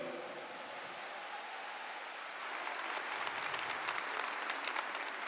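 Church congregation applause during a sermon, a soft even rustle of clapping that swells and grows denser halfway through, distant-sounding and sustained, with no voices over it.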